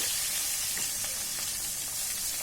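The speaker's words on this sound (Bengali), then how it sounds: "তেলটা গরম হলে এর মধ্যে এক এক করে মাছের পিসগুলো দিয়ে দিচ্ছি" Katla fish pieces fry in hot mustard oil in a pan, a steady sizzle and hiss running throughout with a few faint clicks, close and fairly quiet, no talking.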